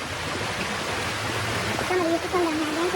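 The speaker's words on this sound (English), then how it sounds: "Listen to the water though, guys, listen. Mini rapids." Water rushes over mini rapids in a natural stream, a steady close broadband rush with no break, while a voice is heard partway through.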